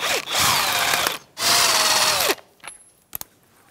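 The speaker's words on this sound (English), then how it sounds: "So let's take off the 2 existing lug nuts that we put on there." A power tool whirs in two loud, close bursts while removing lug nuts from the rear wheel of a 1992–1996 Ford F-150 pickup, followed by a few faint clicks and clanks in the quiet afterward.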